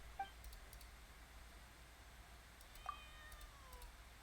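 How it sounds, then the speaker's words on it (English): A cat gives two faint meows about three seconds apart, the second one drawn out, over a quiet background hiss. "That meow, actually."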